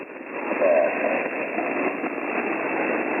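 Faint amateur radio station buried in band noise on the 40-meter HF band, received on an Icom transceiver: a steady hiss with a brief, barely distinct voice-like trace near the start.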